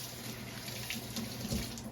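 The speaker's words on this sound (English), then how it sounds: "It's clean, but I always extra rinse it out." Tap water runs steadily into a kitchen sink while something is rinsed under it during chicken adobo cooking, a faint continuous splashing hiss with slight changes as the flow hits the item.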